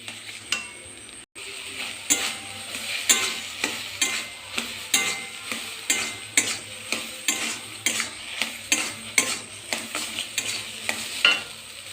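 Chhena and sugar are stirred in a pan over the heat for sandesh, with regular scraping strokes about every half second over a soft sizzle, close and steady.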